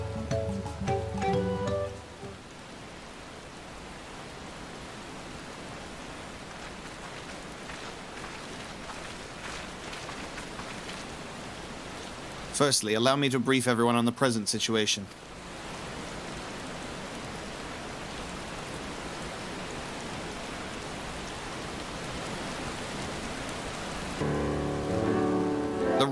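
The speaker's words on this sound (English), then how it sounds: "The rain sounds and feels so nice." Steady rain hisses throughout in Final Fantasy XIV: Dawntrail, with a brief voice at the start and a louder burst of other game sound partway through, then talking resumes near the end.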